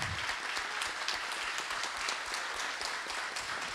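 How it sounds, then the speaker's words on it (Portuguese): Applause from an audience at a military police meeting about pension reform, a quiet but dense patter of many hands clapping steadily throughout, heard from some distance. "Eu gostaria de pedir uma salva de palmas para eles que estão aqui"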